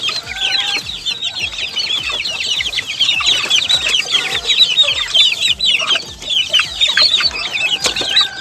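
Chicks and chickens on a farm cluck and peep in a dense, continuous chorus of high chirps close by while being fed, with steady repeated low thumps underneath.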